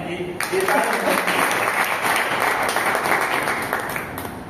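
Audience clapping at a monthly branch meeting, a sustained, dense wash of many hands that starts abruptly and holds steady and loud, fading slightly at the end, with voices faintly underneath.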